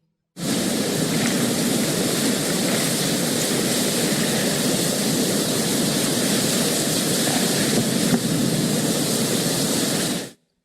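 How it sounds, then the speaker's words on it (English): Water pours steadily down Cauldron Snout waterfall in Upper Teesdale, a loud, continuous broadband roar that holds constant from start to finish. "This is the sound of water rushing down Cauldron Snout waterfall."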